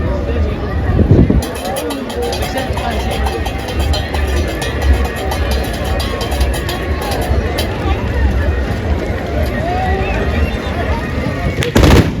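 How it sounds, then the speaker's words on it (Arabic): Tbourida horsemen at the Moussem of Moulay Abdellah Amghar in Morocco fire a black-powder rifle volley, one loud booming blast, followed by continuous crowd noise and an announcer's voice over the festival ground. "نمشيو عند ضربة حاج غوثي النقاش ممثل المنطقة."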